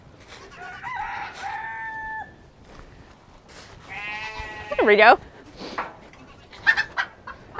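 Chickens on a small farm, one a rooster being herded toward a chicken tractor, give a crow and a rising squawk with scattered clucks, close by and fairly loud, while a person speaks briefly.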